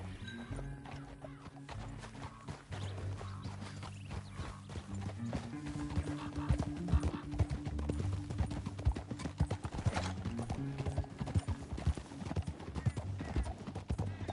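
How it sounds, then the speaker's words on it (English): Horse hooves clip-clop and gallop steadily in Red Dead Redemption 2, with occasional neighs and whinnies over a layer of game music, loud and continuous throughout. "Back on your horse, let's get after them."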